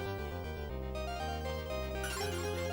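Bright, layered synthesized Sega Genesis game music with a pulsing bass line and shimmering chords, building in intensity near the end.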